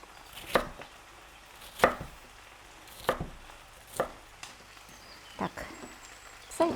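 A knife chops food into cubes of about one and a half centimetres on a board, with distinct single thuds falling roughly once a second, close and clear against a quiet background.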